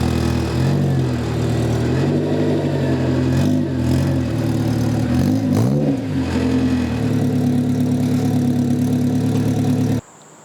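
Honda S2000 with a new Spoon exhaust runs steadily nearby, its engine note rising and falling through a few light revs before settling into an even idle, loud and continuous with no talking.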